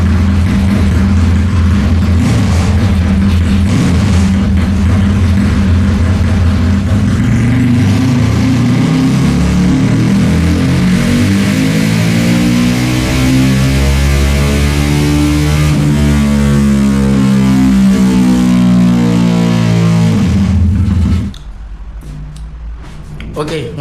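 A tuned single-cam motorcycle engine revs under test: a loud, close, buzzing note that climbs and falls through several pitch sweeps over about twenty seconds before cutting back abruptly to a lower idle.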